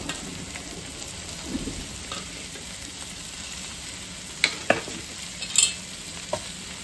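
Veg Hakka noodles stir-fry in a hot pan with a continuous hiss and sizzle, broken by a few sharp scrapes and clinks of a utensil near the end, with no talk.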